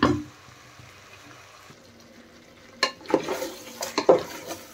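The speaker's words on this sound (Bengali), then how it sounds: "দেখেন চিকেন ভালোভাবে নেড়ে চেড়ে আমি কষিয়ে নিচ্ছি।" Chicken with tomato is stirred and fried on a high flame in a pan. A soft sizzle gives way to a burst of spatula scrapes, clanks and rising frying noise in the second half.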